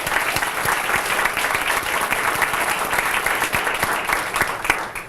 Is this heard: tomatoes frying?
no